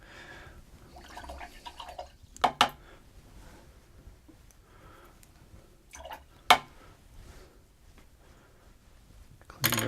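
Paint brushes swish and drip as they are rinsed in a container of clear water, with soft trickles and a few sharp clinks of the brushes against the container, quiet and close.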